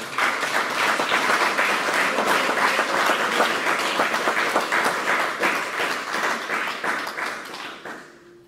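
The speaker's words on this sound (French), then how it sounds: "Acclame le Seigneur Jésus-Christ." A church congregation applauds and acclaims during a sermon: loud, dense, sustained clapping that holds steady for several seconds, then thins and fades toward the end.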